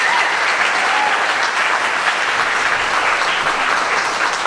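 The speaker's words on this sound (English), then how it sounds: "Another round of applause for all of our soloists on that one." Loud, dense audience applause for the soloists at a jazz performance, a full sustained roar of clapping from a large crowd, close and steady without talk.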